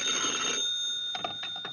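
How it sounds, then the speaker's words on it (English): A telephone rings in short repeated bursts, moderately loud and clear in a quiet room, with no talk over it. "10 minutes later, I got a phone call."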